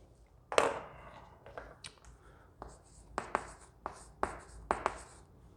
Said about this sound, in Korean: 제가 이거를 한 번 더 써볼게요.